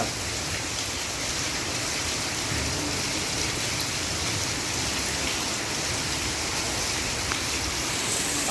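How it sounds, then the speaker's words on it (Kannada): Heavy rain pours down in Bengaluru in a constant, dense hiss with no pauses, filling the space evenly from start to finish. "ಸಖತ್ತಾಗಿದೆ ಫ್ರೆಂಡ್ಸ್, ಮಳೆ ಮಾತ್ರ"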